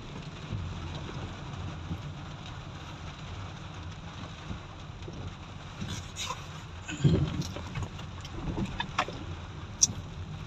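Steady rain hisses throughout over flooded Dagonbhuiyan, Feni, with a low rumble underneath, a few louder splashes and knocks breaking through near the end.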